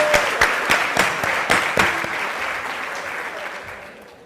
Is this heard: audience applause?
yes